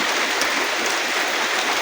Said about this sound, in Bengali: বন্ধুরা দেখেন কি পরিমাণে বৃষ্টি পড়তেছে